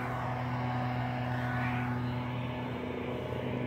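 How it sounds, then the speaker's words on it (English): A helicopter flies overhead outside on a street, its steady low rotor drone holding at an even, fairly loud level throughout with no voices. "here comes the second helicopter of the day"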